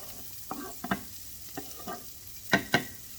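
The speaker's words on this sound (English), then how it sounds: "I'm putting our onions into the pan" Half an onion going into a hot pan while a steak dinner is cooked, with a few sharp sizzling bursts and stirring scrapes spaced out, the loudest two near the end.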